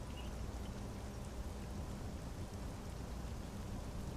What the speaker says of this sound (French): Il y a encore la pluie sur la tête